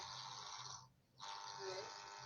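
Steady electric fan hum with a whirring drone that briefly drops out, then resumes close to the microphone.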